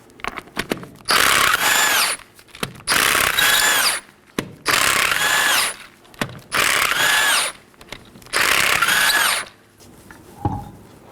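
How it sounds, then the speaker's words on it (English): Five loud, whining bursts of a power tool spin off the 19mm lug nuts of the left front wheel on a 2018-2024 Chevrolet Equinox, each about a second long with short pauses and rattles between, no voices. "Let's go and remove our left front wheel. There's 5 19mm lug nuts."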